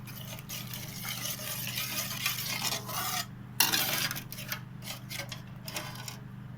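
Egg and potato curry being stirred in a pot after water is added, a steady scraping and sloshing close up with a few sharper clinks of the utensil against the metal, no voices.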